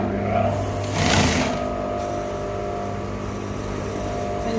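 A sewing machine stitches a neck facing with a steady, close, mechanical whir, briefly rising in intensity near the start before settling into an even hum.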